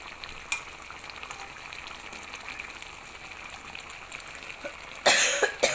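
A dry, itchy-throated cough breaks in sharply near the end, loud and close, following a quiet stretch of low simmering and a few faint clinks while Thai catfish curry cooks.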